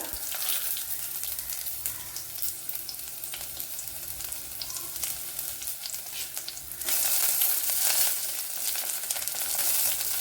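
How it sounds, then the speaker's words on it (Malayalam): Sliced shallots and curry leaves fry in hot oil with a dense, crackling sizzle nearby, which suddenly swells louder and brighter partway through, as if fresh ingredients hit the pan. "അതുപോലെ 2 കൊച്ചുള്ളി കട്ട് ചെയ്തെടുത്തിട്ടുണ്ട്, അത് ഇട്ട് കൊടുക്കുക. കറി ലീവ്സ് ഇട്ട് കൊടുക്കുക."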